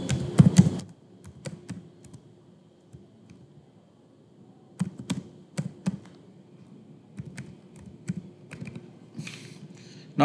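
Email ID and password typed on a computer keyboard: scattered, close key taps in short clusters with quiet gaps between, ending in a sharper keystroke.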